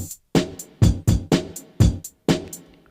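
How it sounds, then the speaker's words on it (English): A sampled kick and snare loop plays with an added Ableton hi-hat ticking lightly between the hits, a tight, even groove of strong thumps and cracks with brief reverb tails. "this hi-hat comes from Ableton"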